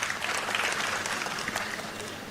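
Audience clapping fills a youth leadership summit hall, a steady dense patter of many hands held at an even level from start to finish, with the crowd murmuring faintly underneath.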